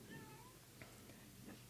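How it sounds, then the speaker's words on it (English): A cat meows, a faint drawn-out mewing cry followed by quieter short calls over low background hum. "Your laser's firing sounds a lot like a cat meowing"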